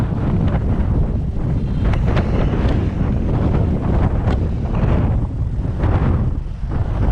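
Strong wind at the Manggahan Floodway by the Marikina River buffets the microphone in a continuous loud rumbling roar with gusty surges throughout, no voices present.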